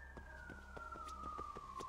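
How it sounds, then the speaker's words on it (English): Police sirens wail in the video game Lost Judgment, a steady falling siren tone held throughout with a rhythm of clicks and thumps beneath it, moderately loud and with no talking. "there's more sirens"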